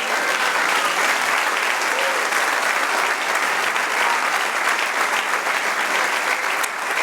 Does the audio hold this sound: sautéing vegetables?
no